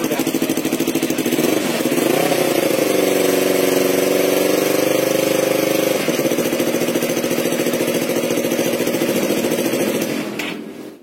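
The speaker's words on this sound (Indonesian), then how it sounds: "Ini hampir persis kayak suara knalpot standar udah." A Yamaha R25 motorcycle fitted with an original Sakura exhaust runs at a steady idle, close and loud, with a brief rise in revs in the middle before it settles back and cuts off near the end.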